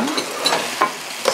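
Kimchi heating in a pan while being stirred, giving a close, steady sizzle broken by a few soft scraping strokes of the utensil over a little over a second.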